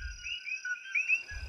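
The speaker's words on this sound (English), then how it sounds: "The frogs that seem to be singing as birds." Frogs calling at night in the Caribbean: thin, high, birdlike chirps and trills, steady and fairly close, ending in a sudden low thump.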